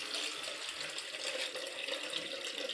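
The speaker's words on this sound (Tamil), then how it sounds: "இப்போ வாட்டர் ஓப்பன் பண்ணுறேன் பாருங்கள்." Water runs steadily from an opened tap, producing a continuous, moderately loud hiss and splash with no breaks and no voices over it.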